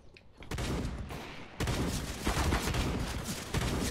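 Gunfire in Counter-Strike: Global Offensive, loud rapid shots and bursts firing almost continuously after a quiet start, with a sharp crack partway through.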